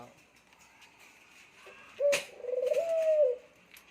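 Pet birds give a brief cooing call in a quiet room, a sharp click followed by a short, wavering coo lasting about a second, close by and alone.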